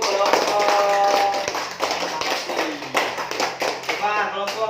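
A classroom gives a student group a round of applause: a brief burst of clapping from several people mixed with children's voices and chatter, loud and close.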